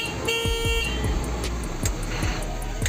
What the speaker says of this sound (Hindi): और हॉर्न की बात की जाए तो कुछ ऐसा आपको हॉर्न मिलेगा।